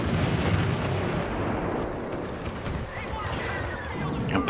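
A thermal imploder grenade explodes in Star Wars Battlefront on Jundland Wastes, giving a broad roaring blast that fades into rumbling battle noise, with scattered pops and shots following.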